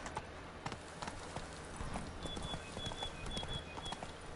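A horse gallops in the video game The Witcher 3, with rapid clip-clop hoofbeats that stay fairly faint and steady, and a brief chime-like game tone partway through.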